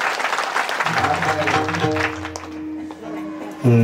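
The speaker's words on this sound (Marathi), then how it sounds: "तुम्ही टाळ्या काय वाजवा. परत एकदा वाजवा, चांगल्या वाजवा." Kirtan audience clapping steadily in a large gathering during a devotional Marathi harinam saptah service, the dense applause continuing while a harmonium-like drone and sung notes sound underneath.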